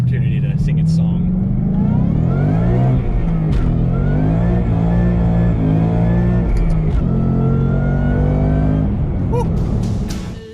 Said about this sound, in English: hear just how amazing this blower sounds on this car